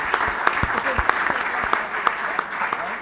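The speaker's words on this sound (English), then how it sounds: "I think that merits applause." Applause from the audience at a conference's closing plenary, a steady bed of many hands clapping with a few sharper individual claps standing out, fairly loud and continuous.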